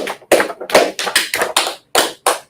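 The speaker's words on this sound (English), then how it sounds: "So let's clap it up for class, right?" A classroom group claps together in a short burst of separate, sharp hand claps, loud and close, with brief gaps between them and no talking.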